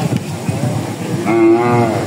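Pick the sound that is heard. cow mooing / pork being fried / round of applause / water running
cow mooing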